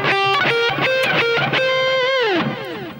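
Distorted electric guitar plays a bluesy phrase from a solo, with struck notes bent up and released and a final long bend sliding back down, loud and close, with no voices.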